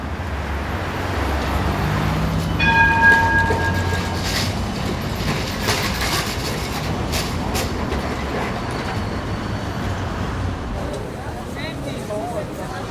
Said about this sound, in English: you can take a tram to any part of the city